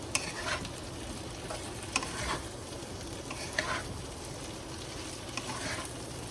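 French beans and cherry tomatoes fry and sizzle steadily in a pan, with soft scraping stirs recurring every second or so, close and fairly quiet, with no voices.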